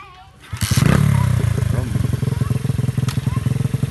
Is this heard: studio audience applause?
no